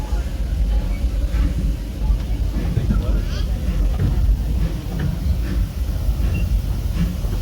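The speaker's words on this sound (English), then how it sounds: "welcome aboard the Disneyland Railroad" The Disneyland Railroad train rumbles along its track with a steady loud low roar and faint clacking, and a voice talks over the running train.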